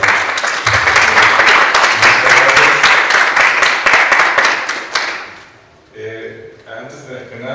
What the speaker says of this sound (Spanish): Por favor, denle un aplauso al licenciado Enrique Molina.